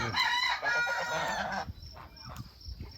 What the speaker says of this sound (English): chickens going into roost